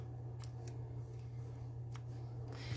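Scissors trim paper for a paper-craft project, giving a few quiet, close snips spread over a couple of seconds against a steady low hum.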